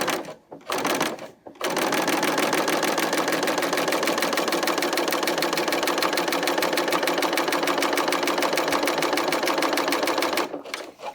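A serger stitches along a fabric edge for holiday gift sewing: a loud, close, continuous rapid mechanical chatter running steadily for about nine seconds after a couple of short starts, then stopping.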